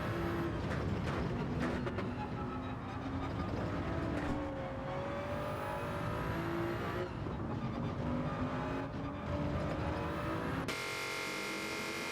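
A Toyota Supra GT3 race car engine in a racing game at the Red Bull Ring drones steadily, its pitch rising and falling through gear changes, loud and continuous with no talk.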